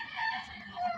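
A brooding hen with her chicks, a gamefowl of a fighting-cock line, gives a short burst of soft clucking and chirping calls, fairly close and alone for about a second.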